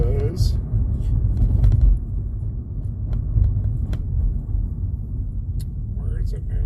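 Steady low road rumble from a car being driven, continuous throughout with a few faint clicks and small rattles on top; no talking.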